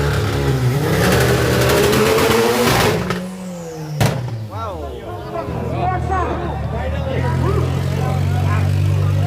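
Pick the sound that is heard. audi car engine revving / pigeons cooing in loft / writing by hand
audi car engine revving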